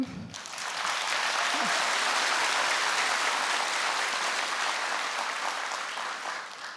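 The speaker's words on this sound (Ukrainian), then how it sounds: "Це заслуговує оплесків" Sustained audience applause at the Global Teacher Prize Ukraine ceremony, a dense, steady wash of clapping that swells quickly after a brief voice at the start and holds evenly for several seconds before easing slightly.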